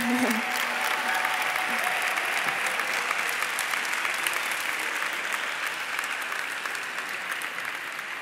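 Continuous audience clapping for computer engineering graduates at an academic graduation ceremony, dense and even, slowly tapering toward the end, with a brief voice at the start.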